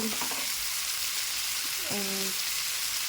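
Chicken pieces sizzle steadily in a frying pan, a continuous broadband hiss with a brief voice-like tone and a scrape near the start and again around the two-second mark.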